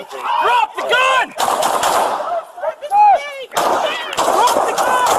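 Police officers fire gunshots during a domestic violence confrontation, caught on a bodycam: several loud, sharp bangs in quick irregular bursts, each ringing out briefly, with shouting between them.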